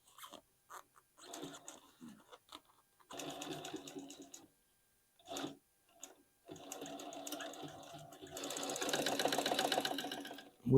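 Sewing machine stitching gator and diamond pattern upholstery for a motorcycle seat, running in short bursts with pauses, then a longer steady whirring run near the end.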